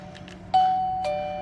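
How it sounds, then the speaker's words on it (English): A battery-powered wireless doorbell gives a short, clear electronic chime of two tones, the second ringing on and fading, with no voices over it. "somebody pushes the doorbell"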